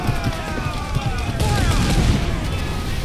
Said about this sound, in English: I'm just gonna keep firing cannons.